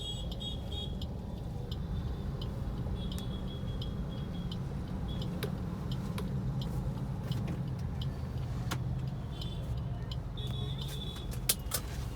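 Cars pass on a road during a driving lesson, giving a faint, steady traffic rumble with occasional light hisses of passing vehicles at a distance.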